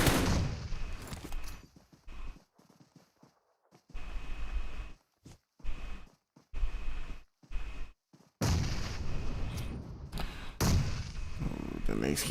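Grenades going off in the PUBG Mobile battle, a run of heavy thumping blasts and gunfire bursts with short gaps between them, loud and close, under commentators talking.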